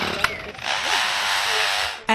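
A lyrebird mimics a chainsaw: a steady, buzzing mechanical whine held for about two seconds, close by, with a short click before it and a cut at the end.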